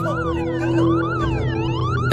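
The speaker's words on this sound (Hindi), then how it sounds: "एम्बुलेंस उसके लिए आ चुकी थी।" An ambulance siren wails loudly and continuously, its pitch sweeping up and down in repeated rising and falling cycles with a steady low hum beneath, used as a sound effect within a Hindi horror story narration.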